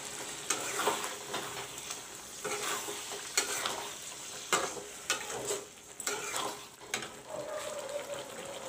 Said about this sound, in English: Now I will put in the dhania paste. This is dhania patti paste, coriander paste.